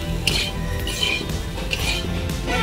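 Lotus greens fry with turmeric in a pan, a continuous close sizzle with metal utensil clinks and scrapes against the pan.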